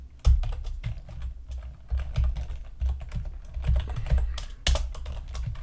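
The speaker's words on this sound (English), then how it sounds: "I will just type it out here." Someone types on a computer keyboard while coding, with rapid clusters of close, crisp key clicks broken by short pauses and an occasional louder keystroke, and no voices.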